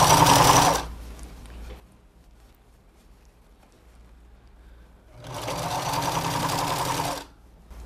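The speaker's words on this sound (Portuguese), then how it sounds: "Vou seguir a mesma costurinha daquela primeira costura que a gente fez" A sewing machine runs in two loud bursts while stitching a fabric patchwork princess crown for a carnival costume, with a quiet pause of several seconds between the runs.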